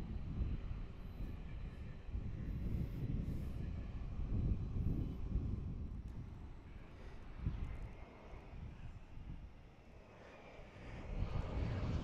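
Airliners at DFW International Airport in hot summer weather, a steady low, rumbling jet-engine roar that stays broad and continuous from a distance, swelling slightly midway and again near the end.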